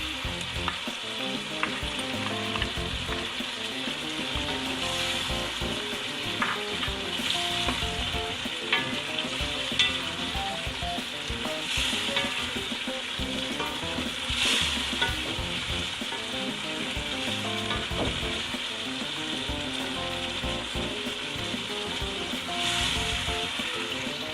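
Biryani masala with garam masala frying in ghee, a dense continuous sizzle and crackle with repeated scraping stirs of a spoon against the pot, close and steady for the whole stretch, no voices.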